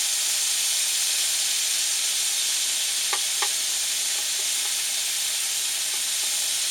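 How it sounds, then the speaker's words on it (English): Scallops sizzling in a frying pan inside a truck cab, a steady dense hiss of frying that holds without a break, with a few faint clicks of the pan being swirled partway through. "just 2 or 3 minute scallops. Swish it round."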